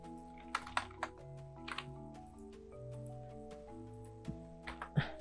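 Scattered keystrokes on a computer keyboard, a few quiet, irregular clicks over a soft backdrop of sustained background music.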